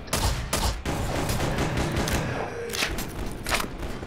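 Gunfire in the video game E.Y.E Divine Cybermancy comes in a few sharp bursts and scattered shots over a continuous busy rumble of battle noise, fairly loud with no clear talk.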